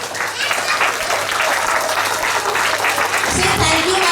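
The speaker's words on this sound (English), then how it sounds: "Clap for your teachers." Children clapping together at a school assembly, a dense, steady burst of applause filling the room, with some voices mixed in under the clapping.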